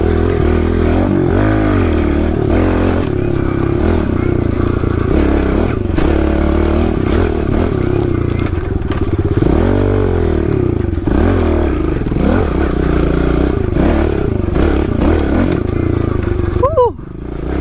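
Kawasaki KLX 110L pit bike ridden along a wooded trail, its small engine buzzing and rising and falling steadily and loudly throughout, with clattering and scraping from the terrain and a brief dip near the end.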